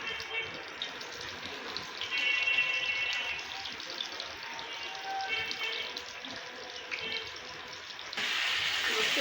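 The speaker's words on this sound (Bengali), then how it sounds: "তাওয়া গরম হয়ে গেছে মাছগুলো দিয়ে দিলাম" Taki fish sizzling as it hits hot oil on a heated tawa, a continuous soft hiss that swells briefly and then settles, with the sound brightening sharply near the end; a voice is faintly present.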